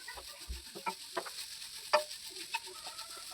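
A spoon scrapes and stirs cooked chicken filling for Malabar kozhi ada in a pan, with soft clinks and a faint sizzle in a quiet kitchen.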